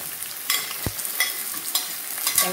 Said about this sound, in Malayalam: ഇത്രയാണ് നമ്മൾ എല്ലാ കാര്യങ്ങളും റോസ്റ്റ് ചെയ്യണം